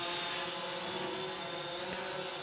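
A drone flies over a septic system installation site, its steady faint motor hum droning continuously and evenly for a couple of seconds with no speech.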